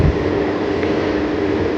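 A metro rail train runs along its track near Uttara in Dhaka, giving a continuous, even rumble heard from inside the carriage, with no talking.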